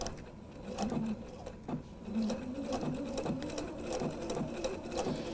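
Sewing machine running a heavy reinforced straight stitch to sew a collar onto a Scottie dog quilt block, steady close whirring with rhythmic mechanical knocks throughout, no voices.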